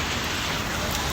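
Steady rain pours down outdoors, a dense, even wash of drops hitting surfaces close by, continuous and fairly loud with no voices over it.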